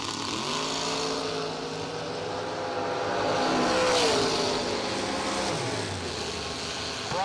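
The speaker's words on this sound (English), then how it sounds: "we got Brian Folk on the left side, 538 dial in the Cavalier" A Chevrolet Cavalier and a Camaro drag racing down the strip: a steady engine roar with rising and falling pitch as the cars accelerate, heard from a distance in continuous open-air noise.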